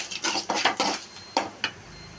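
Mustard seeds and fenugreek splutter in hot sesame oil, giving quick bursts of crackling pops and sizzles in small clusters, then two sharper isolated pops, close and moderately quiet.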